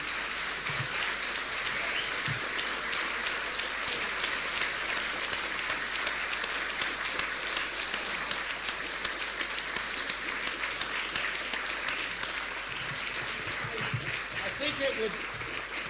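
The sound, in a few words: audience applause at a debate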